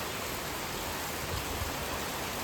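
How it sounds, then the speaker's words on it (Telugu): Steady rain hisses down in a dense, even wash with no pauses and no voices. "వర్షం అయితే సడన్గా పడుతుందండి"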